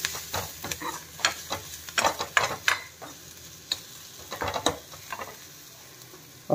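Onions cooking with a pinch of salt in a pan for South Indian rasam, a soft sizzle broken by repeated clinks and scrapes of a spoon stirring, close by with no talking.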